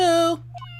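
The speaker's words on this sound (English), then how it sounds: "Let's find Shoe, the kitty cat." A cartoonish cat meow from the Phoenix Wright: Justice For All video game, a single short harmonic cry that rises and falls, fairly loud and alone over a steady low game hum.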